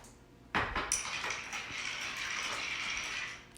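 Ice and liquid being stirred for a Jeannie Martini cocktail: a sudden clack starts a continuous metallic rattling and clinking that runs steadily at moderate volume, then stops abruptly near the end.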